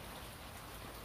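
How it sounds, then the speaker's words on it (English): Steady rain falls outside on a cold, stormy day in Southern Illinois, a dense, even hiss of drops with no pauses and no voices. "Today, cold and raining and storming"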